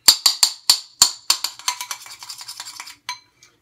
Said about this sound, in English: cream it, which just means stir vigorously